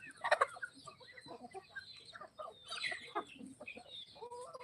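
Free-range village chickens raised on a farm, some about four months old, cluck in scattered short calls, moderately near with faint background noise.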